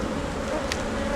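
Honeybees in a hive that still holds a strong colony, feeding frantically on the last stores at the top, give off a steady, dense buzzing drone that stays even and close throughout.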